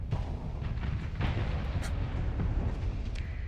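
Weapons fire sets off a booming explosion in the space strategy game, a rumbling low blast that rolls on for several seconds with scattered crackles and a brief bright burst near the middle.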